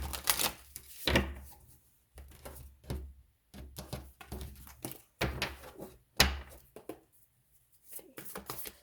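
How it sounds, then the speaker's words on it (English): Tarot cards being shuffled up close in repeated short bursts of papery riffling and tapping, with brief pauses between rounds. "One more shuffle."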